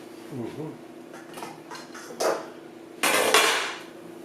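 A clean casserole dish is picked up and set down on a kitchen counter, giving a few light clinks and then a louder clattering knock near the end, with faint kitchen handling noise between.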